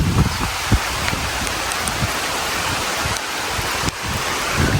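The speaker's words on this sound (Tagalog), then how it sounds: "Grabe yung ulan." Heavy rain pours steadily as a dense, loud hiss close by, with wind and a few gusty thumps over about five seconds, with no talking.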